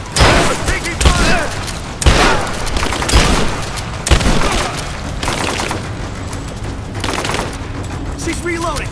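Dense gunfire rattles through a firefight in the video game Rise of the Tomb Raider: loud repeated bursts and sharp shots, close and overlapping, with no clear pauses across the stretch.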